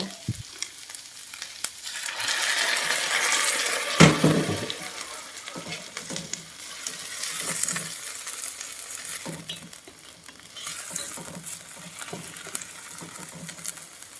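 Loud sizzling and frying as water hits a hot pan of vegetables, with stirring and scraping, the hiss swelling then settling.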